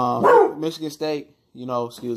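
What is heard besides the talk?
dog barking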